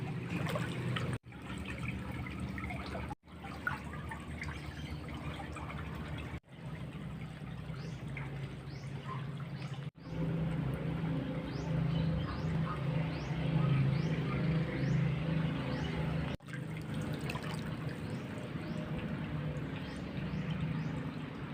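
Water trickles through an abandoned overgrown cemetery toward a fishpond, a steady close babbling flow with faint outdoor background, broken by several short cuts.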